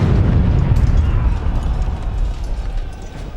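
Siege cannon fire from English artillery at the siege of Harfleur, a heavy booming blast with rumbling low roar that lingers and decays, loud and close.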